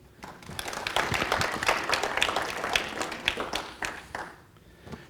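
Audience applause at a school parent meeting, a fairly quiet burst of scattered clapping from a modest group that swells, holds for a few seconds, then thins out.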